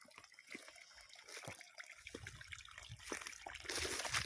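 Water from a solar-powered pump pipe outlet trickles and splashes fairly quietly and builds toward a fuller gush near the end, alone outdoors with no speech.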